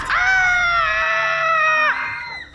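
A doctor in a film lets out a loud, sustained scream of fear after his finger is bitten, holding one shrill cry for about two seconds before it breaks off.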